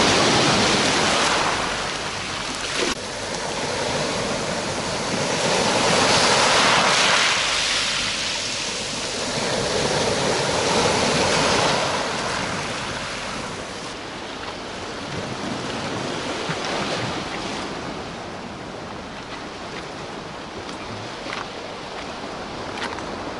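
Sea waves surge and wash over a stony, rocky shore by the embankment at Alushta. A broad rush rises and falls in slow, repeated swells, moderately close and without voices.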